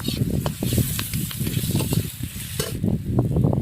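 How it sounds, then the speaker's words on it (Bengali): Sliced onions fry in hot oil for a whole fish curry with a steady, dense sizzle and soft crackle, heard close, with light stirring scrapes throughout. "পেঁয়াজটা আমি ঠিক ততক্ষণ অবধি ভাজবো যতক্ষণ অবধি পেঁয়াজ থেকে তেল না ছাড়ছে।"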